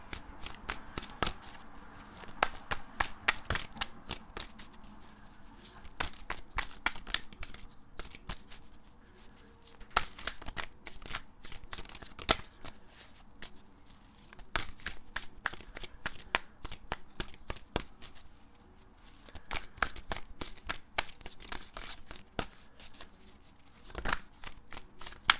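Tarot cards are shuffled by hand in repeated bursts of crisp riffling and flicking, close and clear, pausing briefly between rounds and carrying on for the whole stretch with no voice over it.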